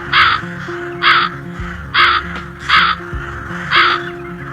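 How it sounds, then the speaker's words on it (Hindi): Crows caw loudly in a steady series of about six harsh calls, evenly spaced, over a low background hum, coming from a fox's cave. "लोमड़ी की गुफा से जोर जोर से आवाजें आ रही होती हैं कालू कौवे की"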